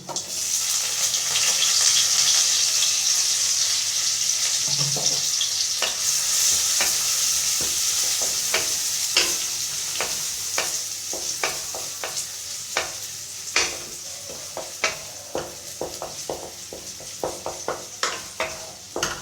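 Chopped onion and dried red chili fry in a pan, a continuous sizzle with running water audible early on, then a series of sharp spatula scrapes and clicks against the pan as the mixture is stirred.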